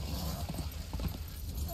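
Hooves of a horse clip-clop in the video game Darksiders, a quiet, brief rhythmic patter of steps with faint background sound.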